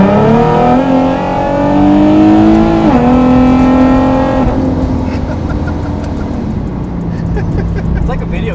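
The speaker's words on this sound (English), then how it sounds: "I'm going to downshift from 4th to 3rd." A supercharged automatic Nissan 370Z engine droning loud and close, pitch climbing, dipping sharply as it downshifts from fourth to third, then rising again before settling into a lower steady drone.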